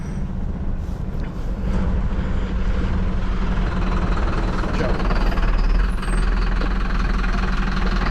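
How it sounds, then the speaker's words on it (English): A truck passes close on a road in Reykjavik, Iceland, its deep engine rumble swelling loud and near over steady traffic noise while people talk. "Damn near got hit by a truck"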